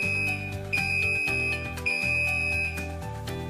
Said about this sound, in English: An alarm is activated.